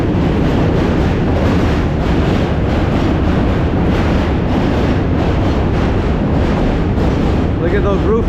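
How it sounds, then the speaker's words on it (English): A New York City subway train crossing the Manhattan Bridge, a loud, continuous rumbling roar of wheels and steel that fills the whole stretch, heard close by from the bridge walkway. "Then you got the subway over here."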